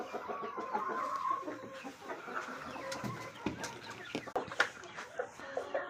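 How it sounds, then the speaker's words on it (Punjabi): A hen clucks repeatedly nearby on a poultry farm, with other fowl murmuring around it and some scattered clattering and rustling; no talking. "ਇਹ ਸਾਡੀ ਅਨੋਖੀ ਮੁਰਗੀ ਹੈ"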